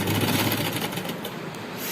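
A sewing machine stitching the legs of a tulip shalwar, a brief, fast, even mechanical whirr of rapid needle strokes, close and moderately loud.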